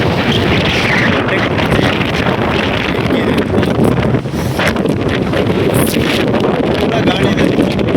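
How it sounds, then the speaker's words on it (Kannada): Strong wind at a hill viewpoint buffets the microphone in a loud, continuous roar that barely lets up for the whole stretch. "ಗಾಳಿ ಫುಲ್ಲು ಜೋರಿದೆ."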